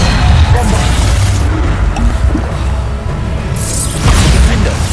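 Bombarda spell explosions in the Hogwarts Legacy video game, a loud continuous barrage of booming blasts and crashes with dense rumble, surging again near the end.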